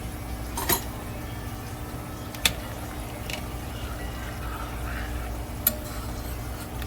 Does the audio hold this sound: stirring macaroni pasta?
yes